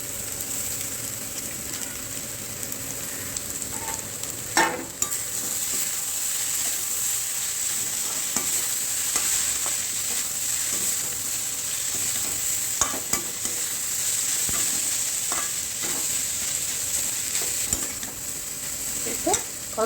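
Shark fish pieces sizzle steadily in a pan with onions and spices while making sura puttu, with occasional scrapes of stirring over a constant close frying hiss.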